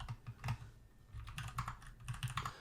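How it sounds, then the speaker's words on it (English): Keystrokes on a computer keyboard while typing a command in a terminal with tab completion, a quick uneven run of close clicks and taps with no talking. "I'm just typing out part of it. And if it's the only one that starts off like that, I'm hitting tab"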